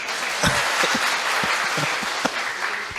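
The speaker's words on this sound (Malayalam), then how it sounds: "ഒരു കയ്യടി റഫീഖിന് കൊടുക്കൂ പ്ലീസ്" A seated audience at a Malayalam talk breaks into steady, dense clapping that holds loud and even for a few seconds, with no voices over it.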